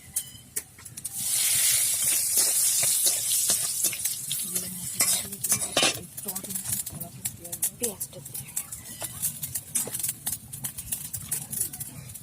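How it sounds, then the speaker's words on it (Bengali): Cumin seeds and a bay leaf hit hot oil with a sudden loud sizzling hiss that settles into crackling, spattering frying and stirring, while a person talks over it. "এখন তেল গরম হয়ে গেছে, জিরে ফোড়ন দিয়ে দিচ্ছি, তারপর তেজপাতা"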